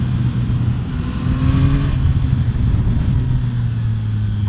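A Yamaha MT-09 motorcycle engine drones steadily on the road while a quick shifter clicks through gears, the pitch dipping and climbing briefly amid wind noise.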